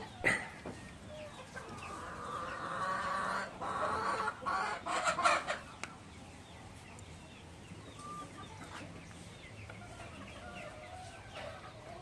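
Native chickens clucking and calling close by in a farmyard, a busy burst of overlapping clucks in the first half that thins to sparse, quieter calls, with no talk.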